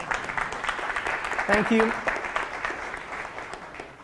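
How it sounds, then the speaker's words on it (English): Crowd at a university science café clapping to welcome a speaker, a steady moderate patter of hands with a brief spoken thanks over it midway. "So let's give him applause here and welcome him up."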